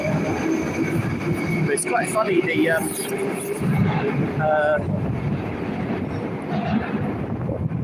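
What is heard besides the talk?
train departing from a Moscow station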